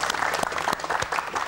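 Audience applause at an Indonesian seminar on people's welfare: a short burst of close, crisp individual claps from a modest gathering, uneven and lively rather than a smooth roar.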